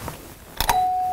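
A doorbell rings once, a two-note chime with the second tone ringing on and fading, after a faint bump.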